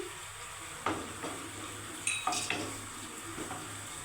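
Prawns and raisins frying in hot mustard oil for chingri malaikari, a soft steady sizzle with a few sharper clinks and stirring scrapes from a spoon against the pan, close by and fairly quiet.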